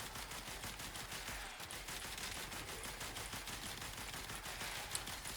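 Sustained rapid weapon fire from the Panthera Prime primary fire in the Warframe video game, a dense continuous run of loud shots with a brief dip midway, no talking.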